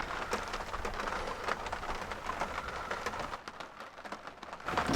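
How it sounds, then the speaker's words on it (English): Rain patters on an RV campsite with irregular soft drops and taps, a fairly quiet, close wash of light rainfall that eases briefly near the end before picking up again. "The rain started. I love that sound."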